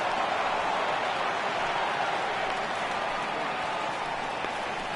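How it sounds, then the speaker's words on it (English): A baseball stadium crowd in the MLB 18 The Show video game, Angels at Rangers in Texas, roars on a 3-2 count as a broad, steady wash of noise that holds loud and constant throughout. "Crowd gets up for the 3-2,"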